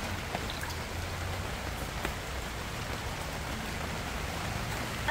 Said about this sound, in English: Even though it doesn't need watering today because we're getting some rain.